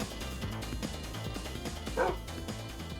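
Dogs barking and yipping in modded Minecraft, short repeated in-game barks over a steady background of game music and ambience, with one louder burst near the middle.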